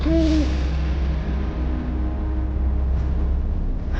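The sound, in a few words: owl hooting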